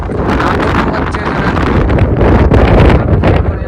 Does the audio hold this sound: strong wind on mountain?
yes